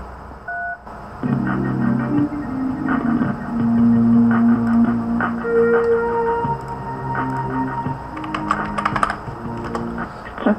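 Telephone keypad tones beep in short bursts while a call is placed to a marketing company's line, with a steady hum beneath and no talking.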